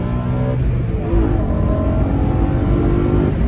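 A BMW M3 E92 V8 with a modified exhaust muffler revs loudly and continuously up close, a steady deep engine roar that swells slightly after the first second, with no voices present.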